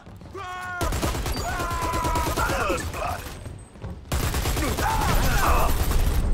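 Rapid bursts of gunfire in the shooter game Dirty Bomb, on the Skyhammer map, rattle on almost without pause, loud and close, with a short lull in the middle and faint mechanical clatter.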